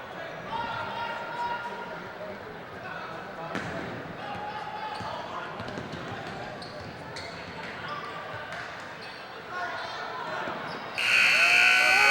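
In a high school basketball game between East Prairie and Van Buren, a loud electronic buzzer sounds near the end of the period and rings over steady gym crowd noise and voices.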